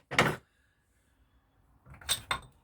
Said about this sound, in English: whack that on the end there with a soft wooden mallet, or in this case I'm using a rubber dead blow